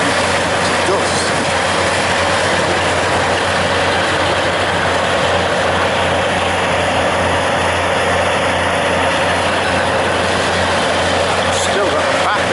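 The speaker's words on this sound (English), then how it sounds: "Chucking really big bits of concrete in there, comes out as dust." A heavy crushing machine grinding demolition bricks and large chunks of concrete into dust, a dense, loud, continuous roar of engine and rubble with a voice speaking over it throughout.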